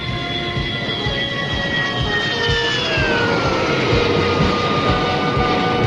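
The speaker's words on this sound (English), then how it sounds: "The A-5 aircraft is now approaching the runway for landing." An A-5 military jet approaching a runway to land, a loud continuous roar with steady whining tones that slowly drop in pitch as it passes, broad rumbling noise throughout.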